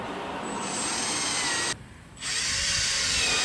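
A power drill runs steadily while driving screws during an LED bulb installation on a 2020 Chevy Silverado RST, whirring loud and close, with a brief drop in the middle before it spins up again.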